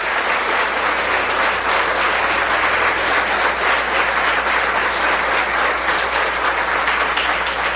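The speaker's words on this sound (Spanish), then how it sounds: "Le damos un aplauso." A church congregation applauds in a steady, dense wash of clapping that carries on evenly without pause for several seconds, with no speech over it.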